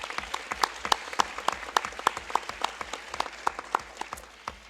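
Audience applause at a board of education meeting in a high school, steady crowd clapping with dense overlapping claps throughout, moderately loud and without speech.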